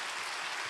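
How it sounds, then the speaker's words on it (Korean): Applause from a church congregation during a Wednesday worship service, a brief, even burst of clapping that fills the room, heard alone with no talk over it. "다시 한번 박수 한번 보내주세요."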